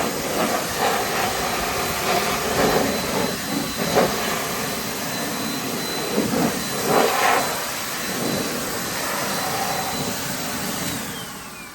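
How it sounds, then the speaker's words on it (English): A Blaster Sidekick air blower hisses steadily and loudly while drying a Lotus Evora after washing, its continuous rushing airflow shifting slightly in tone as it moves across the car. "Now I'm just gonna dry it off with this Blaster Sidekick."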